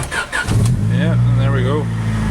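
A Honda car that has been sitting a while starts up, cranking briefly and then settling into a loud, steady idle close by while someone talks over it.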